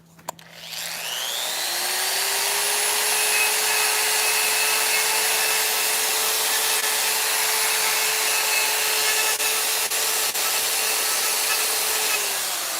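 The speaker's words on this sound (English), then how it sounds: "This is a Vevor die grinder." A Vevor die grinder fitted with a big, heavy coarse burr carves wood during chainsaw-carving finish work on bear figures. It spins up to a loud, steady high whine and holds for about twelve seconds, close by and alone.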